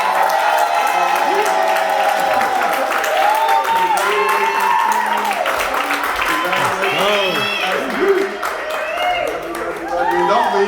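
An audience at a holiday wealth summit applauds and cheers continuously, with whoops and raised voices mixed into the clapping for the whole stretch.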